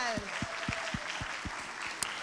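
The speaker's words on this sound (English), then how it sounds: "let's give a big round of applause" An audience at a church Vacation Bible School closing program applauds the volunteers, scattered clapping across the room with a few distinct nearby claps in a loose rhythm and faint voices mixed in.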